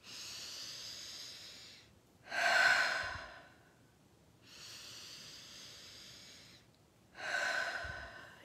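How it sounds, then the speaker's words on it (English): Slow, deep human breathing, each long airy inhale followed by a fuller, louder exhale, repeating in a calm steady rhythm, close and alone with no talking. "Inhale deeply, regardless of your concerns, worries, or problems. Then let it go, literally and figuratively."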